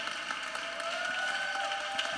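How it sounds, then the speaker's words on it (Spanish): Church congregation applause during a service, a sustained wash of clapping with some crowd murmur and a musical drone underneath, moderately loud and continuous. "Fuerte el aplauso."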